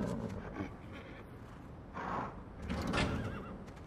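Horse in The Godfather video game, a few faint whinnies and snorts over a low background, the loudest near the end.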